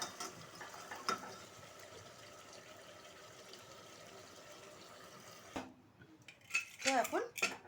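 A lid clatters off a pressure cooker of simmering goat curry, followed by close metallic clinks of pot and utensil as water is poured in, the clatter rising loudly after a steady low kitchen hum.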